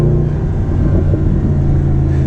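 A Mercedes SLS AMG convertible's 6.2-liter naturally aspirated V8 rumbles loudly and deeply up close, a short sustained burst of engine noise with no talking.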